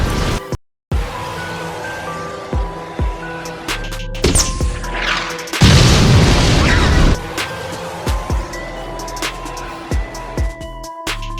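A 40 mm grenade from an M79 grenade launcher explodes in the film Terminator 2, a loud booming blast in the middle of the clip amid scattered thuds, pops and other action sounds.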